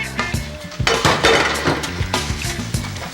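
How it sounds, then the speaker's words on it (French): Dishes being washed clatter in a quick series of close clinks and knocks from plates, pans and cutlery, loud and busy for a few seconds with no talking. "Faire la vaisselle."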